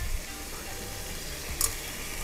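Soft, steady sizzling as onion with ají amarillo is stirred in a pan, a continuous low crackle with a brief clink of the utensil near the end.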